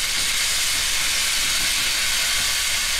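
A T-bone steak pan-seared and butter basted gives off a steady, loud, dense hiss that runs unbroken, with no voices over it.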